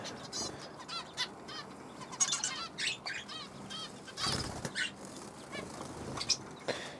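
Young aviary birds calling to their parents for food, heard as repeated sharp chirps and squeaky begging calls close by, mixed with bursts of flapping wings.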